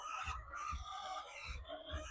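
Faint, low clucking from a nesting hen comes in short repeated bursts, with no talking over it.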